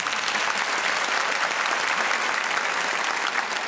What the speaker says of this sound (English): If you don't clap, I will not start.